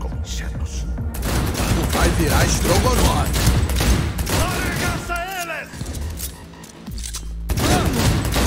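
Bursts of gunfire from the video game Cyberpunk 2077 come in rapid clusters mixed with mechanical clatter and a boom, loud and dense, with voices talking over much of the shooting.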